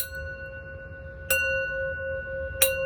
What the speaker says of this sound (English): I might as well get used to this bell today.